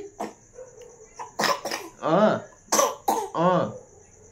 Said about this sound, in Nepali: मलाई साह्रै खोकी लागेछ